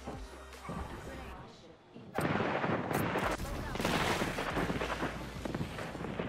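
Airstrike explosions in the Apex Legends video game: heavy, dense blasts and crackling rumble burst in suddenly and keep pounding loudly, with a player talking over the early part.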